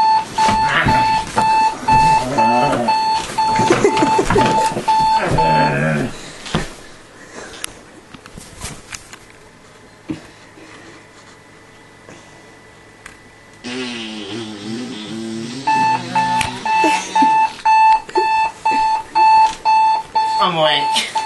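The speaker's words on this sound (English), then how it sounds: "That's how you shut your alarm clock up." An alarm clock rings loudly in rapid, insistent beeping bursts, drops out for a stretch filled with rustling and muffled noise, then resumes its pulsing ring near the end.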